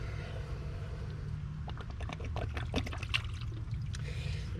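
Coolant from an LBZ Duramax engine, drained for a thermostat replacement, pours and trickles onto a garage floor. The stream is quiet and continuous, with splattering bursts building in the middle.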